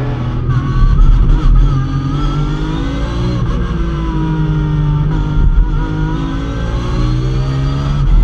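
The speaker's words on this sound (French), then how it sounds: "Un début de course tambour battant entre le pilote Ferrari et le pilote Porsche." Ferrari and Porsche race cars at the start of a race at the Anneau du Rhin circuit: a loud, continuous blend of several engines revving and accelerating, with pitch sweeping up and down throughout.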